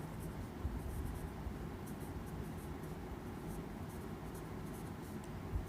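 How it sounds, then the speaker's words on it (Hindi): Chalk or marker scratching across a classroom board during a Class 10 maths lecture on arithmetic progressions, a faint, steady rasping that carries on quietly for several seconds with no voice over it. "तो मैं यहाँ पे लिख रहा हूँ"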